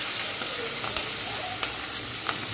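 Slit green chillies drop into hot oil with curry leaves while cooking lemon rice, producing a steady loud sizzle and hiss throughout, with a few small pops and crackles standing out.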